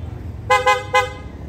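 Three quick, close, loud horn toots from a Kawasaki Ninja 400 motorcycle with an aftermarket horn, in a short burst over a low idling engine rumble, no talking.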